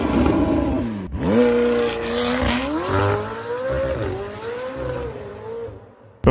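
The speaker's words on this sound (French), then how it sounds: "une McLaren 775 LT de 2020, moteur V8. Je précise sur le moteur V8 parce que le son," A 2020 McLaren V8 supercar engine revving loudly and close, with rising and falling pitch sweeps across several throttle blips and a sharp burst at the very end; no talking.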